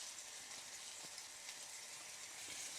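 A pork tenderloin browns in a hot pan, giving off a faint, steady, hissing sizzle with a few soft pops and no talking.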